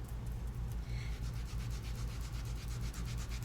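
A spouncer rubs acrylic ink onto plastic vellum in a rapid, regular scrubbing rhythm, close and steady throughout.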